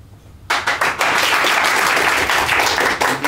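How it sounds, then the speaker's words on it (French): After a short quiet start, a theatre audience at a Paris improv festival bursts into loud, dense applause that holds steady to the end. "Vous applaudissez donc, quand ça vous plaît."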